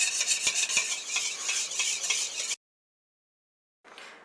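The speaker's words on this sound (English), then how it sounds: "I'm going to whisk it a little bit until it emulsifies really well." A whisk beats a liquid soap mixture in a bowl, a close, continuous scraping and swishing with a couple of sharp taps, then stops abruptly, with a brief faint resumption at the end.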